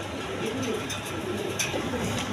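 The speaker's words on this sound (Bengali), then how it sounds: "এইখানে আরেক পেয়ার বন্টিনেট কবুতর আছে" Bontinet pigeons on a breeding farm coo softly in low, repeated murmurs, steady and close against a busy background hum.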